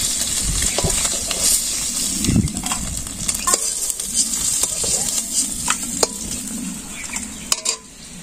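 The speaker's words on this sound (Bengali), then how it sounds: "আনারস যে মাছের তেলে একটু ভেজে নামি" Pineapple frying in fish-flavoured oil in a village kitchen, a steady close hiss and sizzle with scattered clinks and scrapes of stirring throughout.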